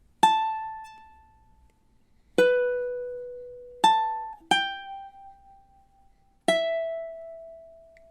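Ukulele plucks single notes of a melody from The Legend of Zelda, five sparse ringing notes spaced apart and left to decay, close and quiet.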